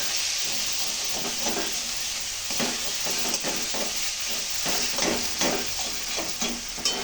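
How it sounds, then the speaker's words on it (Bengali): Onion, ginger and garlic pastes with ground coriander, cumin and salt are stir-fried in a pan over lowered gas heat: a continuous close sizzle broken by regular rhythmic scraping strokes of stirring. "এবার আমি কষবো এটা, একটু গ্যাসটা কমিয়ে দিই।"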